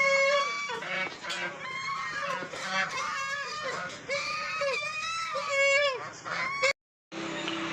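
Village ducks and geese honk loudly and continuously in a dense, overlapping chorus of harsh nasal calls, close by, before a brief drop to silence and a return of the noise.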